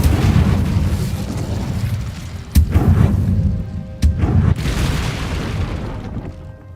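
An Incendio fire spell is cast in a wizard video game, producing a dense roaring burst of flame. Two sharp booming impacts land inside a sustained rumbling whoosh, loud and close.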